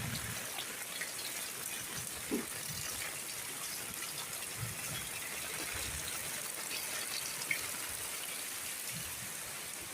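Rain falls steadily outdoors, a constant, even hiss of drops on surfaces with a few faint knocks, moderately quiet and continuous, with no one talking.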